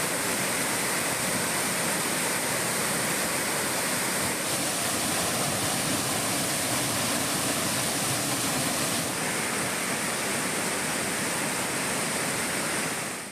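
Courtallam waterfall in Tenkasi, swollen by heavy rain, gives a dense, unbroken roar of rushing water, loud and steady throughout with no voices.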